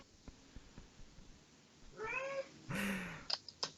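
A cat lets out two meows, first a rising, tonal cry and then a louder, longer one, close by over a faint, quiet room background, followed by a few soft clicks.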